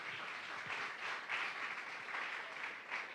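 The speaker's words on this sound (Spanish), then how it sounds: "Dele un aplauso al Señor en esta hora," A church congregation applauds during a Spanish-language service, a continuous, fairly soft patter of many hands clapping in gentle swells, heard from a distance.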